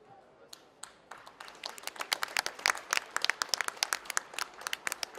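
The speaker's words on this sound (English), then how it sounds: "he's applauded off the pitch while he gets treatment" Crowd applause at an under-14 youth football match building from scattered claps into steady, fairly loud clapping, with sharp individual claps standing out over a murmuring crowd.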